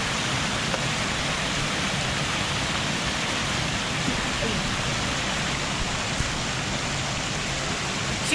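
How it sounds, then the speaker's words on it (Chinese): A waterfall swollen by heavy overnight rain roars as a steady, loud, dense rush of falling water, continuous and unbroken throughout with no voices. "就形成了一个瀑布。"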